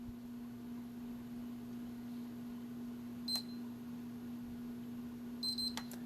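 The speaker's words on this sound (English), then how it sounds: "And now we're going to listen for the double beep." A game console gives two short, high electronic beeps on power-on, one near the three-second mark and another near the end, over a steady low hum and faint room hiss.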